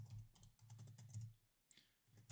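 Soft, fairly quiet typing on a computer keyboard, a quick run of keystrokes, a brief pause, then a few more clicks, with no one talking.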